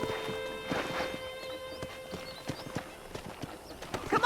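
A horse in Red Dead Redemption walks with crisp, evenly paced hoof clops close by, and a whinny breaks out near the end.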